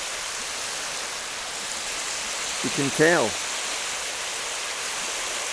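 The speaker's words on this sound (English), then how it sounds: "I would say it's just starting to turn because you can hear the waves" Steady broadband wash of waves breaking on the beach at Sandbraes, Whiting Bay, on the Isle of Arran as the tide begins to turn, continuous and moderately loud, with someone briefly speaking over it.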